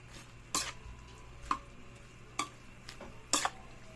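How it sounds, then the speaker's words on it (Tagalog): Corned beef being stirred in a pan, heard as four separate scraping strokes of a utensil about a second apart over a faint sizzle, with no voices. "Haluin natin para mahalo yung yung sahog natin na corn beef"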